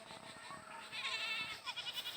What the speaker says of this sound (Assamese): আমাৰ ছাগলীয়ে মানে চিঞৰি আছে।